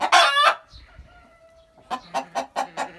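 Chickens in an aviary, including Bielefelder, Minorca and Barbezieux breeds, give a loud burst of calling, then several short, rhythmic clucks close by.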